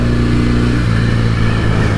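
A restored 1968 Norton Commando 750 motorcycle, still being run in, holds a steady, loud, buzzing engine drone under sustained revs while riding, with no voices heard.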